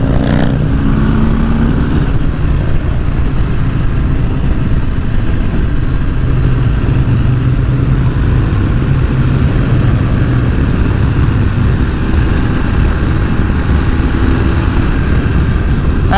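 A motorcycle engine drones steadily and loudly while riding, with continuous wind rush and no clear rev peaks, the bike's rumble constant throughout.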